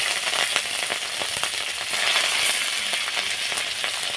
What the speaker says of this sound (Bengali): দেখো লঙ্কাগুলো আমার ভালোভাবে ভাজা ভাজা হয়ে গেছে